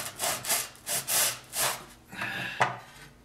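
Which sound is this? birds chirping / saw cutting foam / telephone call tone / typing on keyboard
saw cutting foam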